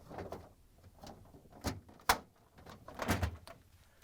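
The plastic crisper cover support of a Samsung refrigerator (part DA97-07565B) is rotated up and locked in. Hollow plastic knocks and rattles lead to a sharp snap midway, then more handling clatter nearby.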